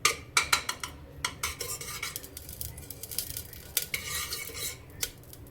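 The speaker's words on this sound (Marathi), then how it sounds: "त्याच्यामध्ये आपल्याला 1 चमचाभर तूप सोडून घ्यायचंय।" A spoonful of ghee melting in a heated pressure cooker as a metal spoon stirs and clinks: sharp close scrapes and taps against the pot over a soft sizzle, no speech.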